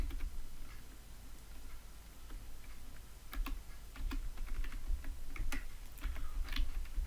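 Keys clatter on a computer keyboard in irregular bursts of typing, moderately close over a low steady room hum, with no voices.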